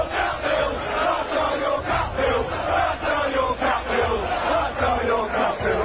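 An away football crowd jeers defender Zouma at his first game back, a loud, dense wall of massed voices with rhythmic swells and shouted surges throughout, heard from within the stands.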